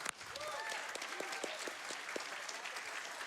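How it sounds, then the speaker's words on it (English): An audience at the Awesome Games Done Quick speedrun marathon breaks into enthusiastic applause, dense and steady clapping that continues throughout, with a voice briefly audible over it. "Can we round of applause for Henry's dad?"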